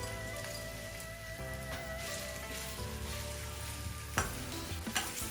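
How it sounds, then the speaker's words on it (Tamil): Paneer cubes frying in hot oil in a pan, a steady loud sizzle and crackle throughout, with a few sharper pops and clatters near the end. "இப்போ இந்த சூடான எண்ணெய்க்குள்ளே இந்த பன்னீரை போட்டு நல்லா பொன்னிறமாக நான் பொரிச்செடுக்க போகிறேன்."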